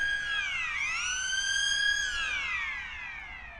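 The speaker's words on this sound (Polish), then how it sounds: "Karetka jedzie, mam nadzieję, że nie na stadion" Ambulance siren passing near a stadium in Poland before a match: a loud wailing two-tone siren sweeping up and down, strong at first and fading slightly as it moves away, no talk.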